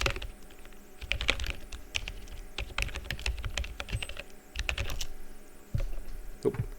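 Rapid keystrokes clatter on a computer keyboard in uneven bursts with short pauses between them, close and clear, with no talking.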